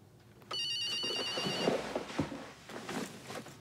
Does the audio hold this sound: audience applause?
no